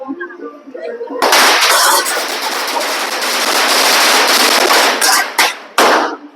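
Firecrackers explode during Chinese New Year in Chiang Mai's Chinatown as a rapid, deafening chain of cracks runs continuously for about four seconds, then sputters out in a few last sharp bangs, following brief speech.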